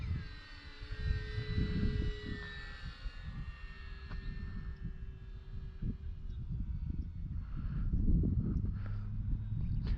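An E-Flite RV-7 RC model plane climbs after takeoff, its electric motor giving a thin, steady whine that drifts in pitch, heard outdoors at a moderate distance over low wind rumble and handling noise.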